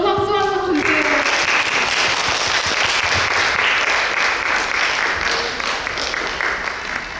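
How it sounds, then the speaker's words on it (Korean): An audience at an author's book concert lecture breaks into sustained, even applause, with a voice briefly audible at the very start before the clapping takes over and fades slightly near the end. "여러분 박수 한번 주세요"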